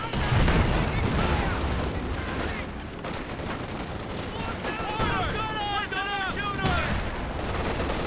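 Sustained machine gun fire and scattered explosions rattle through a Company of Heroes 2 battle, a dense continuous clatter of shots with a voice talking over the fighting.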